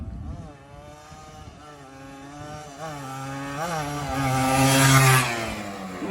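A Scoopy scooter engine runs close by, buzzing steadily and then revving up to a louder, higher whine before easing off slightly.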